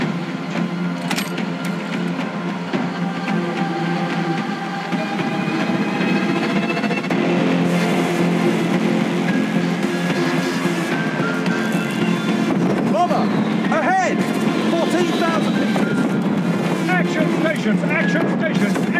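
Steady low rumble of the warship Admiral Hipper's engines running at one-third speed in the naval combat game War Thunder Mobile, a continuous drone with sea and wind noise and occasional voice lines over it.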